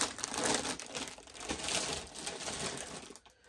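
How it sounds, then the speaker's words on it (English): Close, continuous crinkling and rustling of a plastic bag holding yarn, handled for several seconds with uneven bursts, no talk. "Sorry for all the crinkling, by the way."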